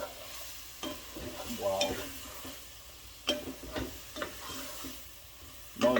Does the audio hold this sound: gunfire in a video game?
no